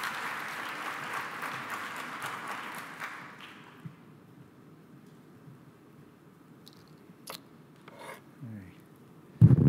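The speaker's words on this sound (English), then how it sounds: "Please join me to give it a round of applause for Dr. Joe." A conference audience applauds a keynote speaker steadily for a few seconds, then the clapping fades out into quiet room tone with a few faint knocks.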